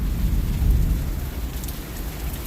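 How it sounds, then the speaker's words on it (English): Heavy rain pours during a severe thunderstorm, a steady loud hiss of rain with a deep rumble of thunder swelling early and fading, no voices. "Any worse, there's storms out here."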